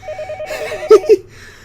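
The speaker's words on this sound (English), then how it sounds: "that literal sound of a freaking in-game phone actually scared me" A telephone rings inside the Higurashi video game, a repeated electronic trill of short bursts capped by two sharper, louder rings near the end, heard alone with no talking.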